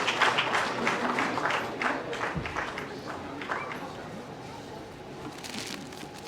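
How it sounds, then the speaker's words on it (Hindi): Audience applause at a Breast Cancer Awareness event held at India International Centre, a dense steady patter of many hands clapping for several seconds that thins slightly toward the end, with a voice briefly audible over it. "एक बार जोरदार तालियां पूरे फंक्शन।"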